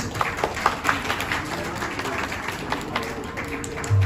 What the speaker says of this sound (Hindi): अगर आपकी तालियों की मेहरबानी रहेगी।